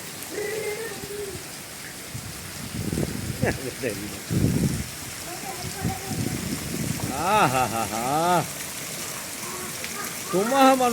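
Heavy evening rain falls hard and steadily, a constant close wash of sound while people talk and call out over it.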